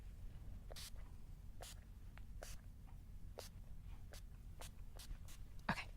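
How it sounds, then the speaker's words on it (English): Several short, soft hisses of a Skindinavia makeup setting spray misted onto a face, evenly spaced bursts in a quiet room with faint background hum. "So now I'm going to spray your face."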